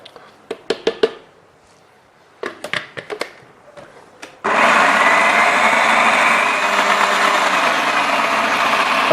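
A blender smoothing raw cashew frosting: a few clattering knocks and clicks first, then the motor starts abruptly and whirs loudly and steadily for several seconds, close and without talking.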